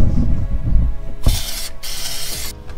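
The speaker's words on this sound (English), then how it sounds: "spray all these chains" Lubricant sprayed onto the drive chains of a 2005 Argo Bigfoot 6x6 during maintenance: two close, loud hissing bursts, the second longer, after a stretch of handling noise.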